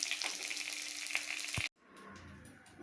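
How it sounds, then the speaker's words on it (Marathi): Onion being sautéed with chillies in a pan for a Bhogi vegetable dish, a steady close sizzle with a stirring scrape, then cutting off abruptly into a quieter, softer frying hiss. "त्या मिरचीमध्ये हा कांदा चांगला परतून घ्यायचा"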